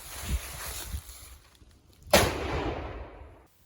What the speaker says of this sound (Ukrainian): Армата, постріл!